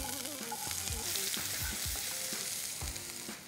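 Onions sautéing in hot oil with toasted cumin, bay leaf and black pepper give a bright, continuous sizzle with occasional spoon knocks and stirring scrapes, with no speech.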